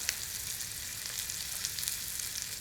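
Fillet steak fries in a hot pan with a steady, close hiss and crackle that runs without a break, with tiny spitting pops scattered through it.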